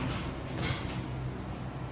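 An Otis service elevator door at a traction parking elevator in First Canadian Place slides shut, a steady close-range rumble with a slight swell early on, and no voices.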